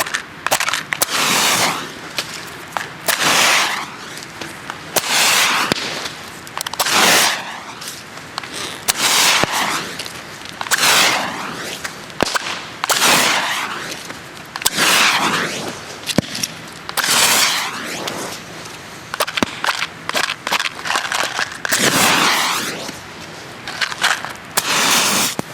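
Old Widowmaker fireworks from 2003/2004 being set off, giving a long run of loud, sharp crackling bursts in quick, irregular succession with no one talking.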